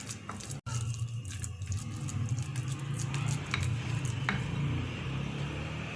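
Minced meat (keema) is mixed in a pan with soft, wet squishing and occasional light clinks of a utensil against metal. The sound is steady and close, with a brief dropout near the start and no voices.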